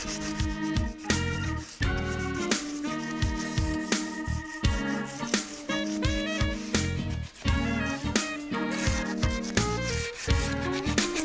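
Wood is sanded by hand with sandpaper in steady, repeated rubbing strokes, with music playing throughout.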